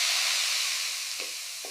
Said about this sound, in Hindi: अब बारीक कटा प्याज डालो और हल्का सुनहरा होने तक भूनो